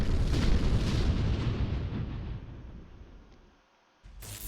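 Ships in a Halo space battle video game fire heavy weapons, producing loud booming explosive blasts that roll and fade, then a fresh burst erupts near the end, with no talk.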